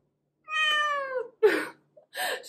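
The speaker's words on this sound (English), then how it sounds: "She's been literally meowing the whole morning." An angry kitten, just bathed, lets out a long drawn meow followed by two shorter, rougher cries, close and loud with brief pauses between.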